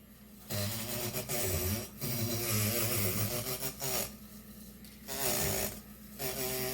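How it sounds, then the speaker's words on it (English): An immersion blender running in a kitchen, a loud steady motor whir with a low buzzing tone that cuts out and restarts in several bursts of one to two seconds each. "we found this new immersion blender"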